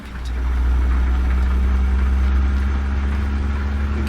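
A Caterpillar C-15 engine in a Freightliner FLD truck in American Truck Simulator holds a steady, low, rumbling drone. It fades in at the start and then stays even, with no talking.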